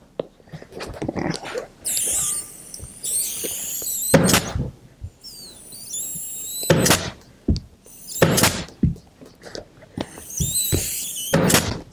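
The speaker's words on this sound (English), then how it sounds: "Sorry for the squeaky air hose" An air hose squeaks and squeals in loud, irregular bursts during chair upholstery work on a barrel back chair, with thunks and knocks from handling the frame between bursts; no speech.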